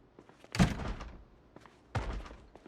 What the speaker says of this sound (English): What door could they be banging on in here?